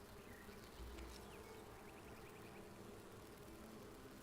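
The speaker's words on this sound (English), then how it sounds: "I have a roof, I have a door, and evidently I have bees" Bees buzz in a swarm around a house in the survival game Enshrouded, a quiet, continuous drone with wavering wingbeat tones, heard alone.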